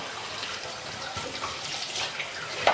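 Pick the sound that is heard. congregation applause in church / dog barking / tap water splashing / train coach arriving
tap water splashing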